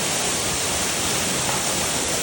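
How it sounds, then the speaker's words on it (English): Steady, dense rush of falling water and a flowing stream along a hiking trail on Mt Shasta, loud and continuous with no pauses. "walking past the water stream crossing. And there's another falls there."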